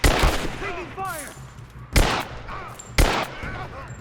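Gunfire in Rise of the Tomb Raider: a burst at the start, then sharp shots near the two- and three-second marks, loud and close, with shouting voices between them.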